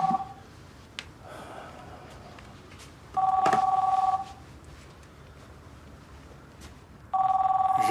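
A telephone rings indoors in short repeated bursts, each trill lasting about a second with quiet gaps between, moderately loud and close, with faint breathing and small movement sounds in the pauses.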